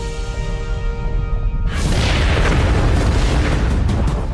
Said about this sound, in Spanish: la mayor explosión volcánica de la historia de la humanidad